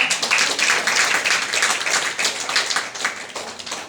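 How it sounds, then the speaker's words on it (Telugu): An audience at a local association felicitation event claps loudly and continuously, a dense, close wash of hand claps that stays fairly even throughout with no one speaking over it. "చప్పట్లు కొడదాం గట్టిగా."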